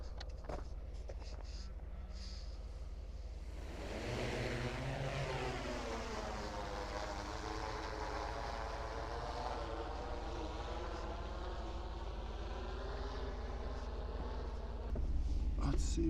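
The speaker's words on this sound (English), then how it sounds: "Let's see if we can see the drone." A drone flies overhead in Texas. Its propeller buzz swells in from a steady background hum, holds loud and close for several seconds with a shifting whine, then fades as it moves off.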